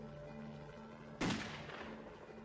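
A single sharp gunshot cracks out fairly close in the 1997 North Hollywood shootout, a sudden loud burst that decays quickly over a low steady hum.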